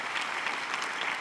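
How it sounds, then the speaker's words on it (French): Audience applause at a live stand-up comedy show, a steady dense clapping that fills the whole moment without voices on top. "Par applaudissement."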